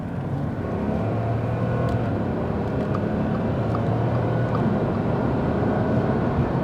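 An Audi A5 V6 TDI with 500,000 kilometres accelerates in Sport mode in third gear. Heard from inside the car, a steady low engine and road drone holds with a faint rising tone.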